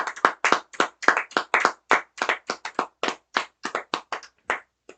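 A church congregation claps in acclamation during a service: a fast, fairly regular run of sharp, loud hand claps, close and continuous, with no speech over them.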